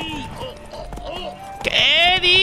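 Horse galloping in a race in the video game The Witcher 3, its hoofbeats running under steady excited talk, with a louder burst of game sound near the end.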